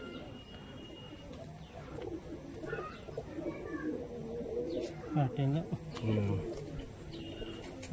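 A restless long-distance flying Madras pigeon coos in short, low rolling bursts near the end, over a steady background hiss and scattered chirps, with a brief voice.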